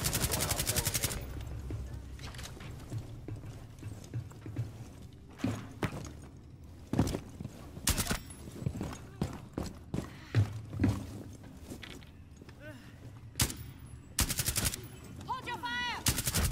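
Gunfire in Rainbow Six Siege on the Club House map, with the operator Fuze: sharp bursts and single shots break out in irregular clusters, some close and loud, others more distant, with thuds and footsteps between them.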